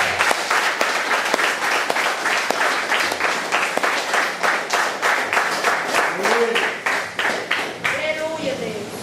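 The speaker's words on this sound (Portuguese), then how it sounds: "Posso ouvir aí um aplauso assim bem forte" Loud, sustained applause fills a church service, dense clapping throughout with cheering voices rising near the end.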